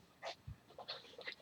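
A small dog pants in short, quick breaths close by, indoors, with a brief soft whimper among the puffs.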